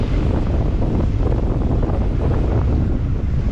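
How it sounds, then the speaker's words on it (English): Strong sustained wind in the mid-20s knots roars into the microphone aboard a heavily heeled sailboat on a wet, squally sea, a dense, constant rumbling buffet with waves rushing beneath. "Sustained winds in the mid-20s."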